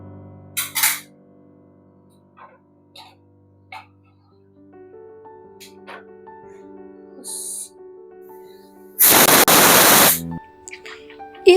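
A pressure cooker whistle is lifted by hand, releasing a loud, rough burst of escaping steam that lasts about a second, with quieter kitchen clatter and soft tonal sounds before it.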